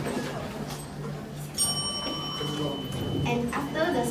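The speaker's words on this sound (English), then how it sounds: "After the speaker has spoken for 3 minutes, the bell will ring like this." A bell strikes once to mark the end of a speaker's allotted time at a speech session, giving a bright ring with a lingering metallic tone over a murmur of voices in the room.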